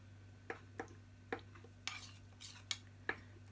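A spoon clinks and scrapes against a bowl while stirring a mixture, about seven light metallic taps and scrapes at an uneven pace over a low steady hum, no voices.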